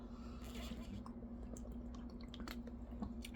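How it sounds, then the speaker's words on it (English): Small wet swallowing and sipping sounds of someone drinking water at home, soft and close, with faint clicks and a steady low hum underneath. "getting a drink of water"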